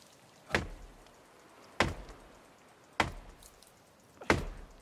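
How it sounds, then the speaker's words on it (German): Four evenly spaced, sharp wooden chops ring out as an axe strikes a tree in the survival game The Forest, each impact followed by a brief fading decay over a quiet background. "Oh, dieses Abholzen ständig, das ist. Oh. Und dann diese Geräusche da ständig dabei."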